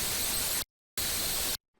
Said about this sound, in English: I'm gonna like distort it to the point where it sounds like static, which is like white noise